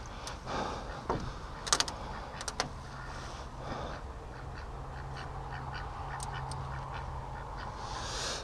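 A small free-range duck quacks faintly a few times near the start, then steady outdoor background noise continues alone.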